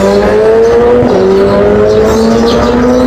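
A Suzuki Hayabusa and a BMW S1000R big bike rev hard at a drag race start line, a loud, close, sustained engine drone whose pitch holds, dips briefly and then climbs.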